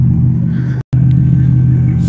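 A Honda Civic with a newly fitted aftermarket exhaust idles loud and close, a deep steady rumble broken by one very brief dropout midway.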